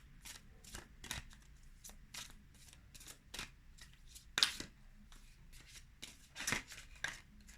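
Tarot cards being shuffled and drawn, heard as soft, irregular riffles and sharper papery snaps at a quiet level, with no talking over them.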